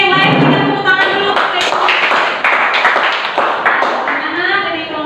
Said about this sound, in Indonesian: Yang lain kita tepuk tangan dulu.